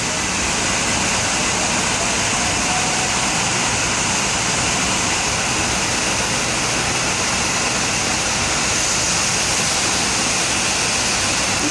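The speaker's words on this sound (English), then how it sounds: "I didn't realize that's water under that bridge." Water rushes under a bridge in a canal during heavy rain in Bangkok, a loud, steady broadband roar that holds without pause throughout.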